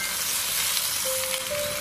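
Shredded cabbage hits a hot wok of browned minced meat and sauce over high heat, giving a loud, dense, continuous sizzle heard close and alone.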